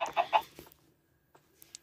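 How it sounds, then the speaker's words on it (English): A Minecraft chicken gives a quick burst of three or four clucks up close, followed by near silence and a few faint clicks. "Chicken."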